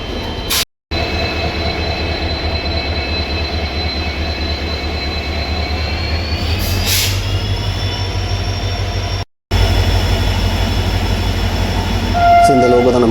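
A diesel locomotive pulls the Bodinayakkanur Super Fast Express, heard from on board a First AC coach as a steady loud rumble of running and wheel noise, with a brief squeal and a faint horn-like tone partway through.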